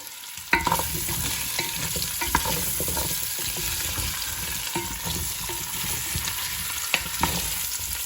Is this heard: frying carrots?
yes